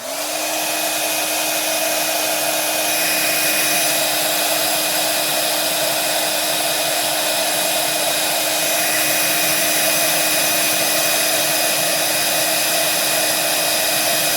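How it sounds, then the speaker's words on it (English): A heat gun melts embossing powder on a painted miniature, giving a steady, loud blowing whir with a constant motor tone that runs unbroken throughout, with no talking. "We're gonna heat that up and we're gonna be all set."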